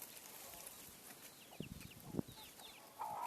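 Chickens and a rooster cluck in a farmyard flock alongside ducks and chicks, with a couple of brief, fairly quiet clucking bursts and a short call near the end over soft background noise.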